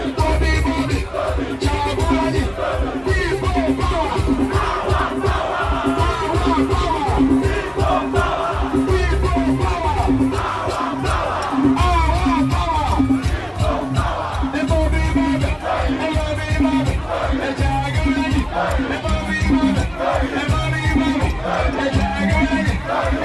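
A very large crowd escorting Bobi Wine and his team into Mbale, Uganda: continuous loud crowd noise with cheering and shouting, dense rhythmic pulses like chanting or music running throughout.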